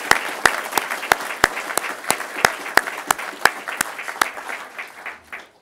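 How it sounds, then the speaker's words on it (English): An audience at a 2010 open source awards event claps steadily for a few seconds, crisp individual claps standing out before the applause tapers off at the end. "So I'd like us all to give a round of applause"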